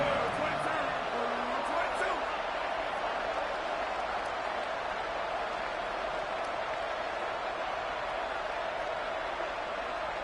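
A steady roar from the stadium crowd at a Kansas State versus Iowa State college football game on third and ten, a continuous wash of cheering that holds at the same level throughout, under distant commentary.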